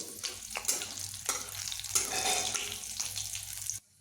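Green and dry chillies with cumin seeds crackle in hot oil as a tempering, a loud close hiss with a few scraping stirs, ending abruptly in silence after a few seconds.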